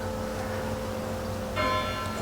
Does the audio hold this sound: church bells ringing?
yes